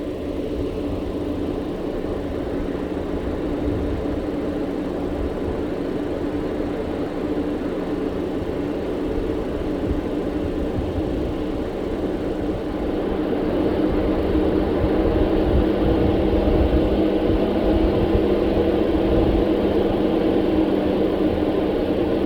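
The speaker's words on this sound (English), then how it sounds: "There's another dump truck coming in." Steady low rumble from an idling car motor nearby, joined about halfway through by a heavier engine drone as a dump truck drives by on a dusty road near the Klamath River, with no speech.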